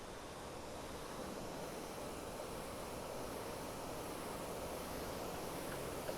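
Steady broadband whirring of a Concept 2 exercise machine's flywheel fan as pedaling begins, a continuous airy rush holding even and fairly loud throughout with no voices.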